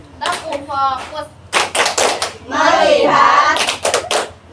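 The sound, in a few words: group clapping game 'tepuk fokus'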